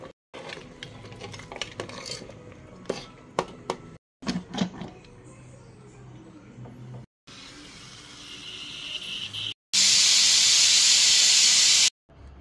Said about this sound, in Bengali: এবার প্রেসার কুকারের ঢাকনা আটকে সিটি দিয়ে নিলেই কিন্তু আমার মাংস একদম রেডি